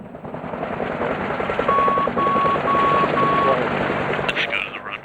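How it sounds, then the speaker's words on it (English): A truck rolls in on a military runway, its reversing alarm giving four evenly spaced beeps over a steady engine and rotor drone, with voices in the background. "Watch the truck coming in."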